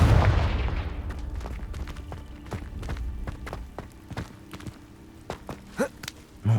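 Confringo fire spell blasts in Hogwarts Legacy, a series of sharp, punchy booms and bursts in game combat, several scattered hits with a heavier rumble at the start and louder thumps near the end.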